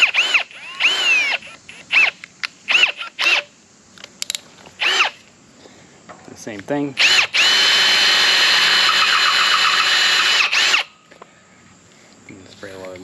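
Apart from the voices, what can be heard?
power drill drilling holes for a car trailer winch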